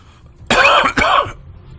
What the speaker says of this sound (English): I most definitely coughed onto the mic.